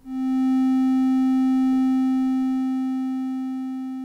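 A single steady modular synthesizer tone with bright harmonics sounds alone after the key is released and slowly fades as the envelope decays.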